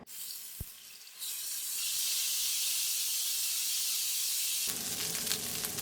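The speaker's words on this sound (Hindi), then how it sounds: "तेल डालेंगे 2 टेबल स्पून, साथ ही इसके अंदर जिंजर गार्लिक पेस्ट शामिल कर दें।" Ginger garlic paste dropped into two tablespoons of hot oil, giving a steady close hiss and sizzle that rises after a brief start and holds, with no talking.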